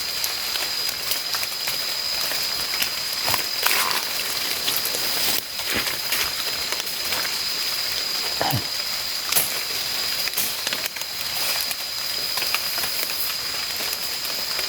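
Rain falls steadily in a tall forest, a dense even hiss of drops on leaves with a few louder close spatters, heard throughout with no talk.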